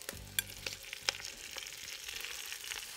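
Kale frying in bacon fat in a pan with softened onions, a quiet steady sizzle with a few sharp utensil clicks and stirring scrapes early on.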